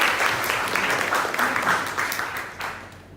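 A high school religious-education class claps for a student, a brief burst of lively applause from a room of pupils that fades toward the end.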